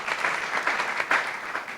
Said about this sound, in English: Can you give a round of applause to Ms.